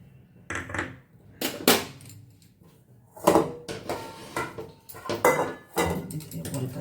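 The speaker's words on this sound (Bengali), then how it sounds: "রুটিটা আমি একটু পাতলা করে বেলে নেব" Nimki dough is rolled thin with a wooden rolling pin on a board, giving a string of close knocking and rolling thumps in irregular bursts, with light clatter between strokes.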